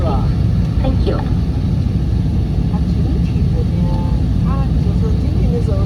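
Steady broadband cabin roar of an airliner landing at Yichun Mingyueshan Airport in Hubei, a dense constant low rumble with faint higher tonal sweeps from the engines, heard close and loud throughout.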